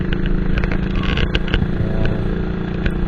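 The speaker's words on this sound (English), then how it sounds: "here goes my Royal Enfield 1981 old model" A 1981 Royal Enfield motorcycle engine thumps steadily while riding, a close, continuous low rumble with mechanical clatter and occasional sharp ticks, no talking.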